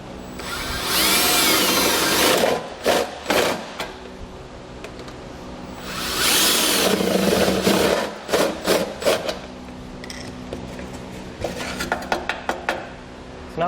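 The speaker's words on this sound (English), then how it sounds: "we're going to use that as a template to drill those holes" A power drill drilling holes in a car's heat shield whines in two long sustained bursts, each followed by short choppy spurts of drilling and scraping, loud and close.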